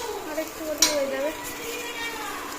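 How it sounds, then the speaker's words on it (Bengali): Bitter gourd fries in a home kitchen pan, a soft steady sizzle with a sharp clink of a utensil against the pan near the start. "উচ্ছে ভাজা হচ্ছে"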